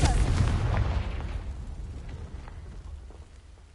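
A Confringo fire spell in Hogwarts Legacy bursts against dry vines, a loud booming blast at the start that rumbles and fades into a low crackling decay.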